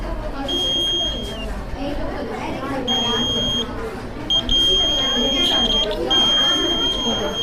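School science project laser beam security alarm sounding in intermittent high-pitched electronic beeps over a busy crowd of chattering voices at an exhibition.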